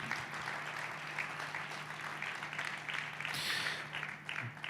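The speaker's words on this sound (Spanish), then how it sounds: "Fuerte ese aplauso de alabanza al Señor" A church congregation gives faint, scattered applause in praise, with a brief louder swell of clapping before it fades.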